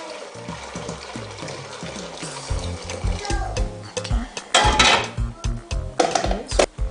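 Pigeon peas being washed in water in a kitchen, heard as close sloshing, swirling and pouring sounds that grow louder and choppier toward the end, with irregular splashes.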